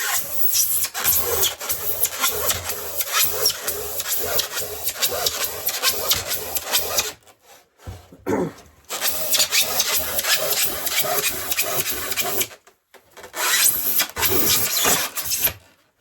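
Rhythmic rasping strokes of a kitchen knife sawing through a foam sheet, continuous back-and-forth scraping with two brief pauses.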